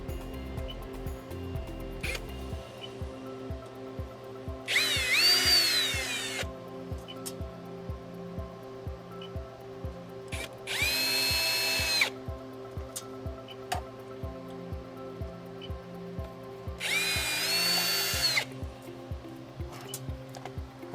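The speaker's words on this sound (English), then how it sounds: "I'm going to be using my drill on the lowest setting with the lowest power" A cordless drill on its lowest setting whirs in three short bursts of a few seconds each while removing screws from an APC UPS, separated by quieter pauses with faint clicking in the background.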